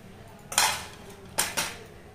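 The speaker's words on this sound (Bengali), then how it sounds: "এই সুজিটা আমি এই বাটির মধ্যে দিয়ে দেবো।" Semolina is tipped into a bowl, with three short clinks and scrapes of a utensil against the dish, quiet and close.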